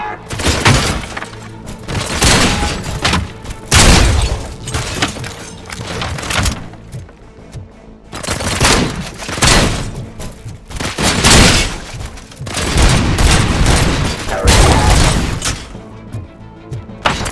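Loud gunfire in the RoboCop: Rogue City video game, with sustained bursts of shots and impacts broken by brief lulls, plus occasional game voices.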